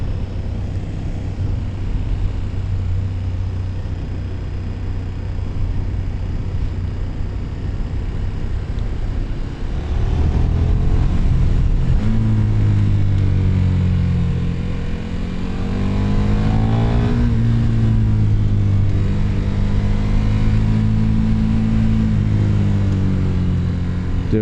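KTM Superduke motorcycle engine while riding, a steady loud drone that rises into rising and falling revs midway, close and continuous with wind noise.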